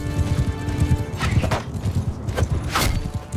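Horses in the video game Mount & Blade II Bannerlord clop along in a close, irregular rhythm of hoofbeats, with a whinny and thumps mixed in amid battle noise.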